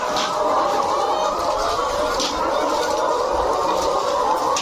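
Layer hens on an egg farm holding about 6500 birds cluck continuously as a dense, close flock, with occasional sharper calls rising above the steady chorus.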